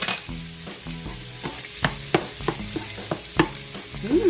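Garlic fries in melted butter in a pan, giving a steady sizzle with scattered pops and occasional scraping clicks from stirring, fairly close, with no one speaking.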